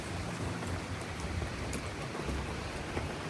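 Steady rain falls outside a shop, a continuous hiss of drops on surfaces with no voices and no breaks.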